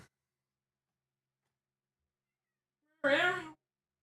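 A single short cat meow, close and clear, ringing out after a long silence with nothing else around it.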